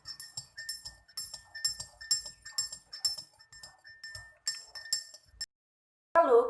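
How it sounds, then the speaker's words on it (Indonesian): A glass rod or spoon stirs a liquid solution in a glass lab container for a kitchen-vinegar dilution, clinking repeatedly against the glass in a quick steady rhythm, close and clear, before stopping briefly. "Lalu kita aduk sampai tercampur rata."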